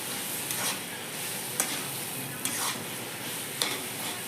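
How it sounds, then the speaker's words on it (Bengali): Spoon stirring and mixing garam masala into a thick banana flower curry in a pan, soft continuous scraping over a steady low sizzle, with a few sharper clinks of the spoon against the pan at intervals. "গরম মশলা দিয়ে ভালো করে মিক্স করে নিচ্ছি"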